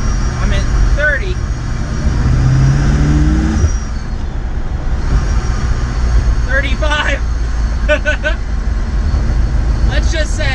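A 750-plus horsepower old muscle car engine drones steadily from start to finish at low speed, with a brief throatier rise early on and people talking over it.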